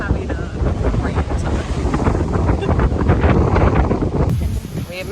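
Wind sweeps across the deck of a cruise ship at sea on a rainy, overcast day near a hurricane, a loud continuous buffeting roar over the mic mixed with ocean wash.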